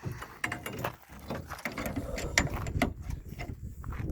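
Metal bimini top arms on a 1957 Lonestar boat being flipped up and locked, a busy run of clanks, rattles and mechanical clicks close by, with no talk.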